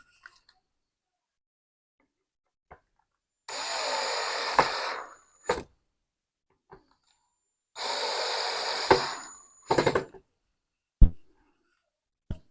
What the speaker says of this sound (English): And use the power tool to drill it in.